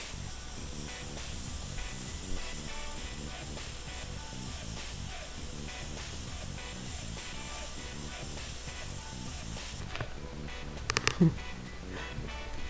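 Steady airbrush hiss of paint spraying onto Yeezy Boost 350 sneakers being given a Joker theme, continuous and close, with a few brief clicks and bursts near the end.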